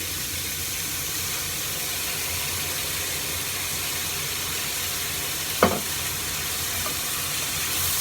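A splash of port wine is stirred into a beef casserole, giving a steady, loud sizzling hiss throughout with one brief scraping clatter partway through.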